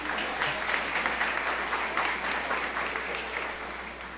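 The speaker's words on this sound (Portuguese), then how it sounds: "Uma salva de palmas a Jesus" A church congregation applauds steadily, a dense wash of clapping that holds evenly for several seconds and tapers slightly at the end, with no talk over it.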